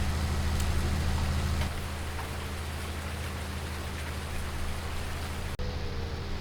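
Steady rain hisses in Farming Simulator 19 on a farm during poplar harvesting, a dense even wash with a low engine drone under it at first.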